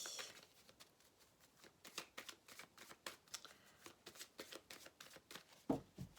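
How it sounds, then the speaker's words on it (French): Tarot cards being shuffled close by, a quiet run of soft riffling flicks and taps in an uneven rhythm, no talking. "donc je vais quand même mettre les cartes"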